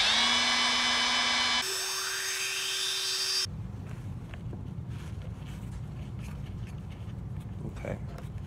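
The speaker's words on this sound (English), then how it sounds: "then I will drill a little bit more so the handle fits in nice" A power drill whines at high speed for a few seconds, its pitch shifting once, then cuts off, leaving faint background noise and light handling sounds.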